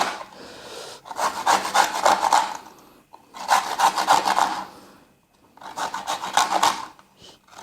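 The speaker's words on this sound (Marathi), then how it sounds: "या पद्धतीने आपण किसून घ्यायचे आहेत आवळे" Indian gooseberries (amla) are grated by hand on a grater for a honey amla recipe, three separate bursts of rapid rhythmic rasping strokes with short pauses between them, close and clear, no speech.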